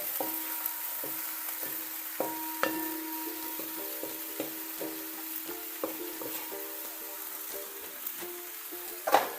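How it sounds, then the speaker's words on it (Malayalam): Grated coconut heating in a pan for Kerala pathila thoran, stirred with light scraping and soft sizzling, with faint tapping at an irregular rhythm, quiet and close, no voices. "ഇതിലേക്ക് ഞാൻ ഈ നാളികേരം ഇട്ട് കൊടുക്കുന്നുണ്ട് ഇതൊന്ന് ചൂടായി വരട്ടെ"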